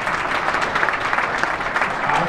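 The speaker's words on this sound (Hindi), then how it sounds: "तो एक बार नरेश सरन जी के जोरदार तालियां बजाइए" Loud, dense applause from the audience at a Hindi poetry gathering (kavi sammelan) held at a Delhi political event, steady throughout with no speech over it.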